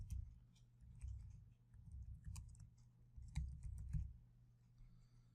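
Keys clatter on a computer keyboard while a name is entered into a PowerPoint custom show dialog, giving soft, close, irregular clicks in short bursts over a low steady room hum.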